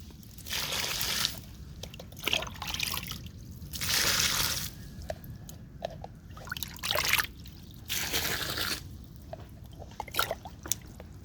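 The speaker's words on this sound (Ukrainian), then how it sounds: "Також лию кожну ямку воду," Water is poured into planting holes in greenhouse soil while transplanting peppers, coming in several separate bursts of trickling and splashing that each last about a second, with quiet gaps and small soil crunches between them.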